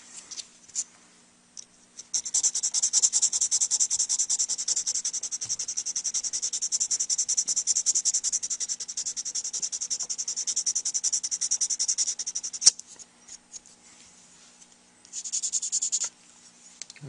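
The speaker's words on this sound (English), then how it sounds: "pretty much did all the sanding on that" Steady hand sanding on a pool cue tip near the tip rail, a continuous close scratchy rubbing that runs about ten seconds, pauses, then returns briefly, with no talk.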